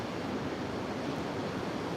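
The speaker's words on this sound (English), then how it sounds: "The ocean is gorgeous." Rough ocean surf at Pine Knoll Shores during a hurricane watch, a steady, dense roar of breaking waves mixed with wind buffeting the microphone, continuous with no talk.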